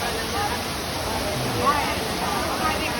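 Waterfall at Ban Kaeng Chang Niam, reached by a cycling trip from the district town, running with a high volume of water; a steady, dense broadband rush of falling water fills the scene evenly and continuously, close and moderately loud.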